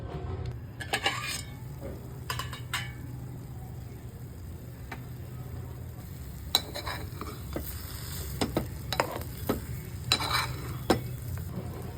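Semolina sheera stirred in a pan with milk and sugar, a steady scraping and sloshing with soft sizzling underneath, punctuated by spoon clinks against the metal pan at irregular moments.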